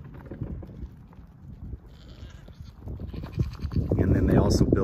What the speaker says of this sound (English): Right back here, we have the Goats of Anarchy. This is the goat ranch back here.